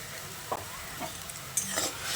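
Spiced chicken with Kashmiri chili powder is stirred in a pan: a brief soft sizzle under a few scraping strokes of a spoon, close and fairly quiet, with no one speaking.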